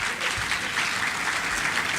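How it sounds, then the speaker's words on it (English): Audience at a higher education summit in Ghana applauds the event sponsors, a brief, steady burst of many hands clapping at even volume. "Let's encourage them by applauding them."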